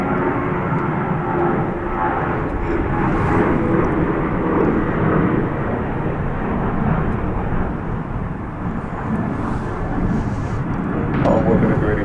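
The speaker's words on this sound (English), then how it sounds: "This will be a CRJ 701ER." A CRJ 701ER jet airliner at the airport, heard as a loud, continuous broadband jet engine roar that holds steady throughout, with radio chatter running underneath.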